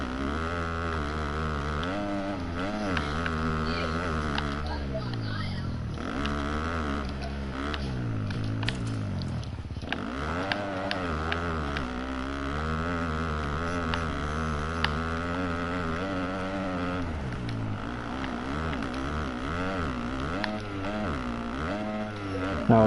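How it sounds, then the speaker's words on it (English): Engine of a 250F motocross bike in MXGP 2020 ridden around a track, a continuous revving drone rising and falling with throttle and gear changes, steady and fairly loud throughout. "So we'll go out on the track so you can see how the bike performs"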